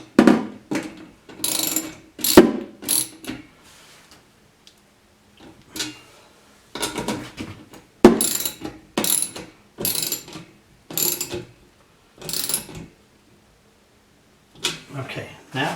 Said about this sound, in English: Now we're going to tighten down the nuts on the front.